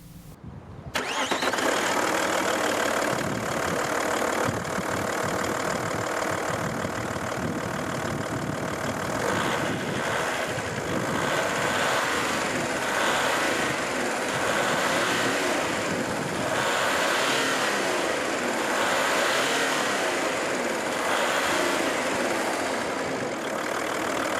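An Audi A6 with a 2.5 V6 turbo diesel engine starts up and settles into a steady, rumbling idle with a diesel knock, close and continuous for the whole stretch.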